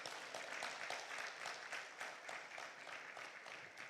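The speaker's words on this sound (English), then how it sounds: "I think they deserve a round of applause." Applause from a conference audience at a law and business event, a steady wash of many hands clapping for the whole stretch with faint pulses, fairly distant and fairly quiet, with no voices over it.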